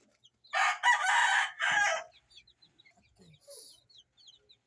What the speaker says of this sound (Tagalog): And this is my chicks, guys.